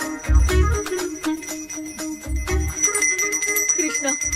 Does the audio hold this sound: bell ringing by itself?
yes